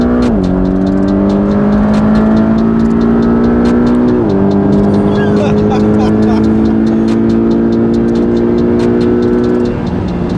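A Porsche Cayman GTS accelerates hard, its engine note climbing steadily in pitch through two gear changes, loud and close from inside the cabin with no talk over it.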